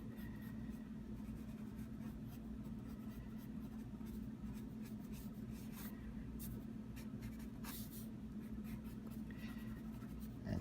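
A pencil sketches a black-and-white Joker drawing on paper, producing continuous close scratching and shading strokes for the whole stretch, steady and fairly quiet, with no speech.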